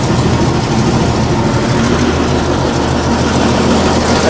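An old bulldozer slated for scrapping idles after starting, giving a loud, steady low rumble with constant mechanical vibration throughout.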